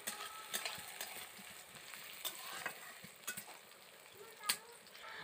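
Chopped onion fries in hot oil in a pan for village-style kumro shak cooking, a steady close sizzle with crackling pops and a few louder spits throughout.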